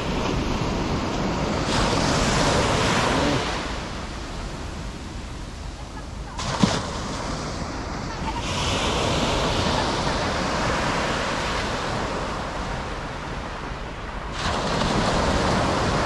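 Sea waves washing onto the shore at Sifah Beach, Oman, a broad continuous rush that swells and recedes in several surges, with wind buffeting the microphone and a brief sharp knock midway.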